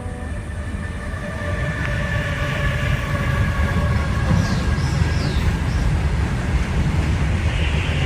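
A train passes near a bridge with a loud, continuous rumble that builds slightly, while faint squealing tones drift above the steady roar. There is no talking.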